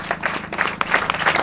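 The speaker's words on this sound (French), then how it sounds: "je crois qu'on peut applaudir Bernard" A brief burst of audience applause at a talk and debate on French labour law, with loud, dense clapping filling the short moment.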